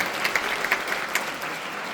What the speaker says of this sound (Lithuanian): Nuoširdžiausiai dėkoju ir išlydime aplodismentais.